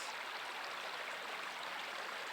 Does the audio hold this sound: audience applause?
no